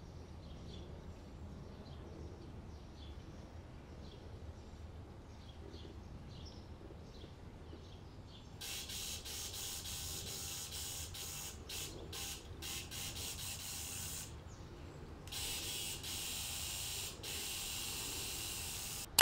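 A sewing machine finishes the fabric edges of boxer-style pajama pants. After a quiet stretch, a loud, steady mechanical whir starts partway through, with a brief pause before it resumes.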